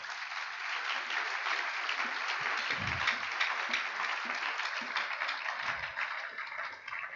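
A church congregation applauding the Lord during a French-language service, sustained steady clapping from a large crowd, loud and continuous throughout, with a few faint voices mixed in.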